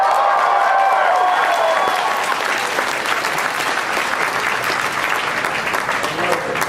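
Crowd applause at the Fan Expo 2013 masquerade costume contest: loud, sustained clapping from a large audience that fills the whole stretch, with some cheering and voices mixed in early on.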